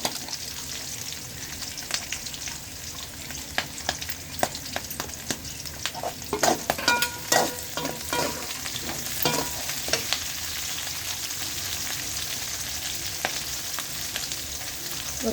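Three onions sautéing in oil for pirandai (adamant creeper) chutney, a steady close sizzle broken by repeated sharp scrapes and taps of a spoon stirring against the pan, with no talking.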